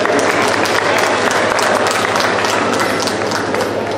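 A crowd claps loudly and continuously for the doctor community at a medical practitioners' association annual conference, a dense, even wave of applause that holds throughout.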